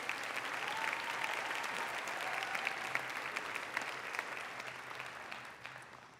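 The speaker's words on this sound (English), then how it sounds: "please clap for her" Steady applause from a graduation ceremony audience at a high school commencement, sustained and fairly even for several seconds, with no voices over it.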